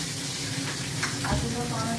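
Moong dal with a fish head cooking in a pan, a steady bubbling sizzle with faint stirring scrapes, close and continuous for about two seconds.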